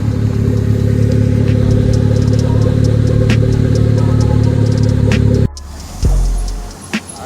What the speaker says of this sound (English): let me give you guys an exhaust clip real quick